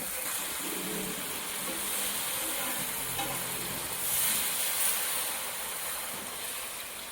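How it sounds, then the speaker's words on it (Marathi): Water hisses and sizzles as it meets sautéed masala in a hot pan for mixed vegetable pulao, a soft steady bubbling with light stirring, quiet and without talk. "तर आता आपण यामध्ये पाणी मिक्स केलेलं आहे."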